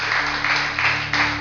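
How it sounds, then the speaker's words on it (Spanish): A church congregation applauding in a short, steady burst of dense clapping, with a sustained musical tone held underneath. "le damos un aplauso"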